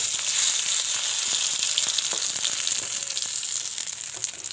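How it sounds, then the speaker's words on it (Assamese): Dried red chillies and onion fry in hot oil in a pan, giving a loud, steady sizzle with occasional crackles and spatters close by. "শুকান জলকীয়া আৰু পিঁয়াজ দিম এইখিনি অকণমান ভালকৈ কাঢ়াখিনি ভাজি ল'ম"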